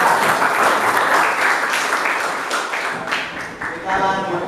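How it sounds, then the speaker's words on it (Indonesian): Classroom applause for a student named Mas Aji during a lesson; a burst of dense group clapping that gradually tapers, with voices talking near the end. "tepuk tangan dulu Mas Aji"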